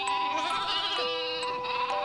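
Cartoon sheep bleat continuously in a children's animated series, with a wavering, nasal sound that is loud, close and uninterrupted, and no talking.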